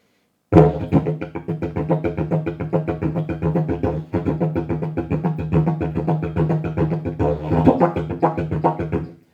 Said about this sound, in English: This is not a typical didgeridoo sound.